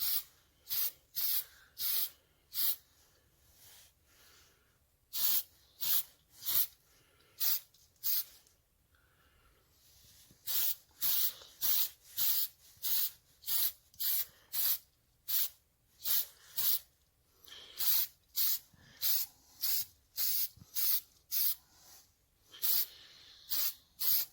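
A light coating is sprayed onto the engine head of a 1971 Triumph Tiger 650cc in short, rhythmic hissing bursts, dozens in a row, quiet and close with brief pauses between groups.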